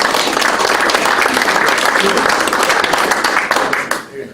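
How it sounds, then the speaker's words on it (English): Steady applause from a crowd at a company annual general meeting, many hands clapping densely at close range, tapering off near the end. "But Kevin has a round of applause as well."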